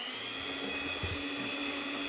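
An electric mixer whirring through banana cake batter, a steady, fairly faint motor hum with a brief low bump as the beaters move, no voices.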